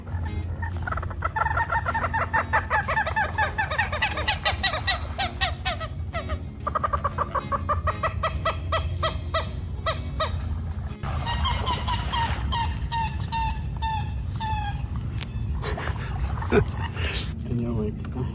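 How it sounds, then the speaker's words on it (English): Unseen wild birds call at sunset in the Florida countryside, a loud run of honking, gobbling cries repeating in quick bursts over a steady background hum, with a voice talking over part of it. "I can't see these birds, but they have the funniest cry."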